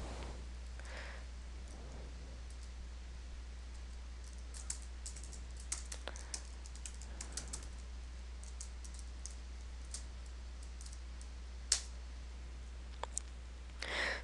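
Quiet keyboard typing while a spreadsheet formula is entered: scattered light key clicks in irregular bursts over a steady low hum.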